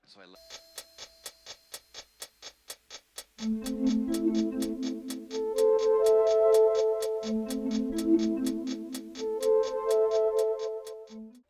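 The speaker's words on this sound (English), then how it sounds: "a ticking clock acts as an ostinato as a synthesizer plays select notes over top" A clock ticks in an even, steady rhythm, alone at first, then synthesizer notes enter and play a sustained melodic line over the continuing ticks.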